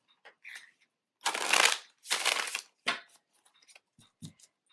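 Tarot cards shuffled by hand in several loud riffling bursts, with softer card handling taps and slides between them, no talking.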